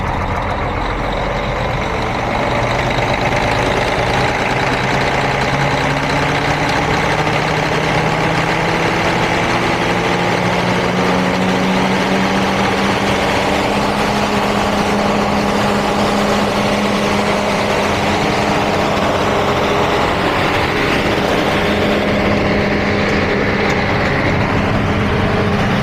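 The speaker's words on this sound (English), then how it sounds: "we're idling right now. And we're gonna go to rated speed. Like I said, 1800 RPM." The diesel engine of an RTG container crane climbs from idle toward its 1800 RPM rated speed, a heavy, steady drone with rising tones that stays loud and near throughout, with no talking.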